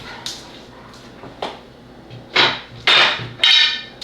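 A husky shepherd mix dog makes a few short whimpers and yips indoors, spaced-out bursts that grow louder toward the end, with light knocking in the background.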